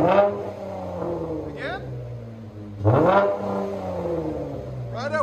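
A 2013 Dodge Challenger SXT with a 3.6L V6, dual exhaust and Vibrant bottle resonators revs up close in three sharp throttle blips that rise and fall over a steady idle, with someone talking over it.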